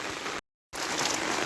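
Heavy rain falls over flooded fields in Dhobaura, a steady, dense hiss that drops out briefly for a moment before resuming just as strongly.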